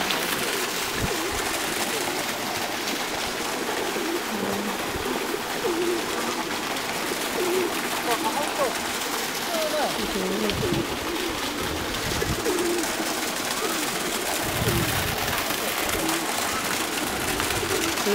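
A flock of pigeons coos steadily at Wat Umong temple in Chiang Mai, where visitors feed the birds. Faint splashes of water and people talking in the background run under the birds throughout.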